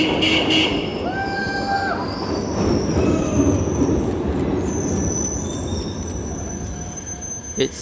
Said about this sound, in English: Here comes the very last stop for the second generation trains, the Glasgow Subway